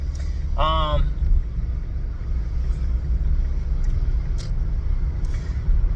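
Interior of a moving car, a steady low engine and road rumble throughout, with a brief voice early on and faint clicks above the drone.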